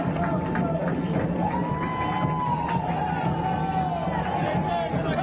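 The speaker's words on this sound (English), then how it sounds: "So now you can hear the noise from the Eagle crowd." Eagles supporters in the crowd at a varsity softball bi-district playoff game, a continuous murmur of cheering and chatter heard from an enclosed booth, steady and moderately distant.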